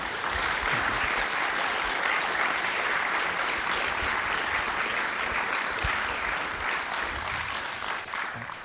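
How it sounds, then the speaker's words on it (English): Audience applause after a talk on diplomacy by an academic, a dense, sustained wash of many hands clapping at steady loudness for several seconds, tapering slightly at the end. "Let's give him another round of applause"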